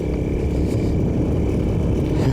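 A 150cc scooter engine revs hard and steadily, a loud continuous mid-pitched drone with some mechanical clatter, close by and alone without talk.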